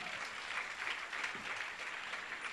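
A church congregation applauds during a French-language service, a soft, continuous patter of clapping heard from a distance with no speech over it.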